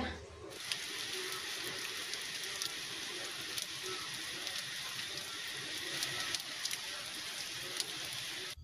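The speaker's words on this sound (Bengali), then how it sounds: "এদিকে তো আবার বৃষ্টি শুরু হয়ে গেল।" Rain falls outside as a steady, soft hiss of drops on surfaces, even and unbroken, fairly faint and distant.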